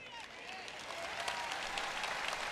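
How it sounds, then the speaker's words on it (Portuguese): A church congregation claps during a sermon, a steady wash of applause that grows slightly fuller, mixed with crowd voices and cheering underneath. "você está batendo palma quando eu digo que ele está voltando"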